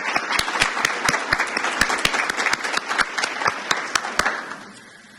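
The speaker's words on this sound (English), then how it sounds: "Let's give another round of applause for our speaker." An audience at a spring induction and send-off ceremony gives a sustained round of applause, dense and steady with a few sharp individual claps standing out, fading away near the end.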